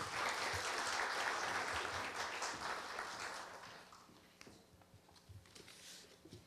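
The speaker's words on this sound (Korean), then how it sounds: "큰 박수 부탁드립니다" A seated audience at a Korea University campus-town startup fair gives a full round of applause for a lawmaker's speech. The dense clapping is loud at first, then thins and fades over several seconds, with no voices.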